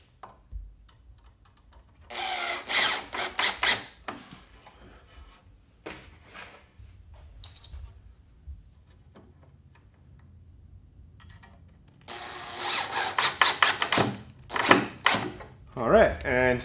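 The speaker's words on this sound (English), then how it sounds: "get your drill handy." A power drill whirs in short bursts, pausing between runs as it drives screws mounting an electrical receptacle box, with a few clicks and handling noises nearby.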